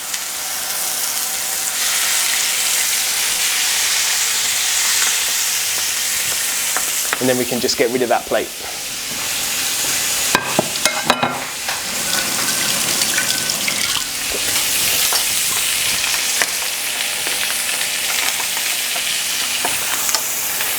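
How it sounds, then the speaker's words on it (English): Skin-side-down chicken pieces sizzle loudly and steadily in a hot frying pan, with stirring and clattering bursts midway and a brief spoken remark over the constant frying hiss. "a nice sizzle."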